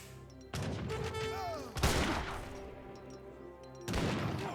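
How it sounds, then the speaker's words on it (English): Musket volleys in the Age of Empires 3 strategy game, three bursts of crackling gunfire with crashes and booms over a steady game background, the middle volley loudest. "Good volley there."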